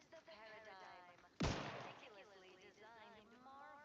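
A single loud gunshot bursts out in the Outer Worlds 2 video game, sharp and close with a decaying tail, while a voice talks before and after.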